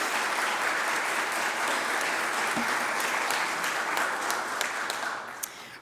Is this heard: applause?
yes